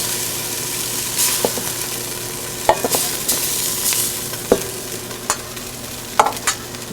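Beef cheeks sear in a hot pan with a steady, close sizzle and crackle, broken by scattered sharp pops and light scrapes of a utensil, with no voices over it.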